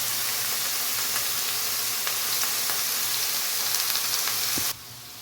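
Chopped snake gourd fries in an oiled pan with a dense, continuous sizzle and crackle that stops abruptly near the end, leaving quieter background.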